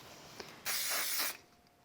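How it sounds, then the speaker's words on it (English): A short burst of aerosol spray glue hisses onto small paper card corners in a crafting setting, one brief, bright spray lasting under a second between quiet moments. "I'll just use a little bit of spray glue on these."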